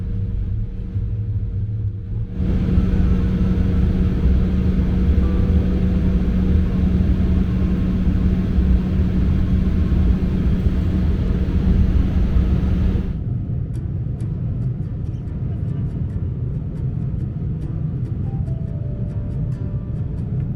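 Cabin of an Embraer E175 airliner in flight, a steady low engine and airflow rumble that shifts level partway through, with no talking.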